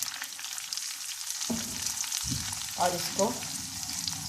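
Semolina toasts in hot oil with green cardamom, a soft frying hiss broken by spoon scrapes and stirring clatter partway through, while a voice speaks briefly.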